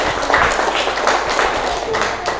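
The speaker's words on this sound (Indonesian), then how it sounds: "tepuk tangan untuk kelompok 3" Brief scattered clapping from a classroom audience applauding a presenting student group, mixed with murmuring voices and some movement, lasting only a couple of seconds.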